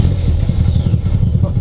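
A 1988 Mazda RX-7 FC3S rotary engine runs at a steady, close, loud idle with a rhythmic pulsing burble, a voice briefly over it.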